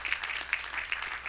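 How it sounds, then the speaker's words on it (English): Audience applause at a university lecture hall event, a faint, distant patter of many hands clapping in a steady wash with no voices over it. "And also a round of applause, if you will"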